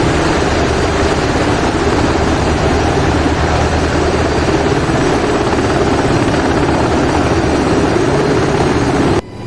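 A helicopter flies in the DCS World flight simulator on the Persian Gulf map, a loud, unbroken engine and rotor roar that continues throughout and cuts off abruptly at the end.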